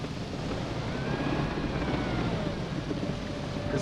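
A helicopter flying in the military video game ARMA, heard as a steady, moderately loud rotor and engine drone that holds even throughout.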